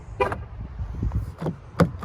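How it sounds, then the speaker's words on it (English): Door locks on a 2021 Jeep Wrangler Unlimited Rubicon engage at the press of a button, a few close, abrupt clicks and thunks within two seconds against a low background hum. "I can also push this button to lock the doors."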